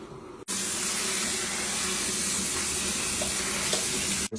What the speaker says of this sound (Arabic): اغسل الرز.